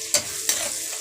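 Fish roasting in a frying pan: a close, steady sizzle with two quick scraping strokes of a spatula.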